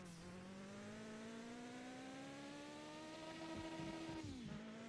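A car engine in the Mon Bazou driving game hums steadily and rises slowly in pitch, then drops sharply near the end as the driver comes off the throttle, with no one talking over it.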